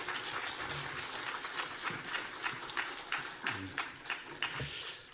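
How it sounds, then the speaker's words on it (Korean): Church congregation clapping to welcome a guest speaker, an irregular patter of applause rising and falling with scattered louder claps over several seconds. "나올 때 뜨겁게 박수로 환영하겠습니다"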